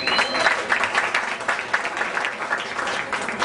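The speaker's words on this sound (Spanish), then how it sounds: "Un aplauso para ellos." Audience applause for a jazz quintet at a Casa de Teatro concert, steady dense clapping from a crowd filling the whole stretch at an even, moderately loud level.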